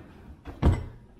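A kitchen drawer in a house at 17 Colony Rd, Lexington, slides open with a soft scrape and ends in a short, solid thunk, heard close by.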